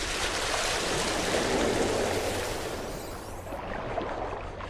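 Large ocean waves crash and surge around a small skiff in the video game No Man's Sky, a broad, steady roar of rushing water that swells and then eases slightly, with no voices over it.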